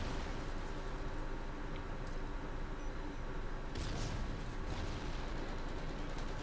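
A grenade bursts in a shooter video game with a broad, rumbling blast midway through, rising over a steady bed of game noise and distant firing.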